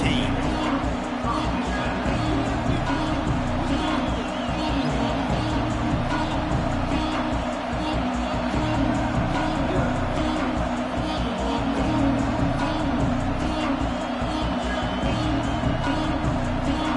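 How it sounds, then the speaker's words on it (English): A football stadium crowd roars steadily throughout, a dense continuous wall of cheering and noise with a commentator talking over it. "This crowd ready to make its presence known."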